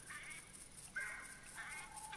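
Ducks in theHunter 2016 quack and honk in short nasal bursts against steady outdoor ambience, calls spaced irregularly across the scene at moderate distance.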